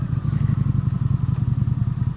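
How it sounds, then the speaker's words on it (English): A motorcycle fitted with 3-inch slip-on exhausts runs close and loud with a throbbing, rapidly pulsing low rumble and a steady rhythmic burble throughout. "it compares those slip-ons to this exhaust"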